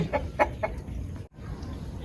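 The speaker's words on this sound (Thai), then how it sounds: "อันนี้ไก่" Chicken clucking in a rural backyard where black chickens have just hatched, three short clucks close together in the first second, followed by quieter ambient noise.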